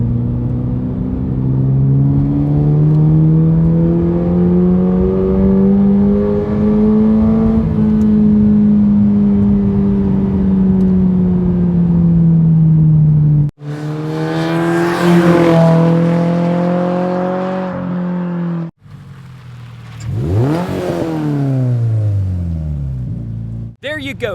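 A Subaru BRZ or Toyota GR86 with a Noble dual titanium exhaust revs and drones loudly up close, the pitch rising and falling, followed by sharper blips and hard revving bursts.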